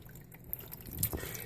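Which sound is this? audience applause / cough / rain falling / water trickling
water trickling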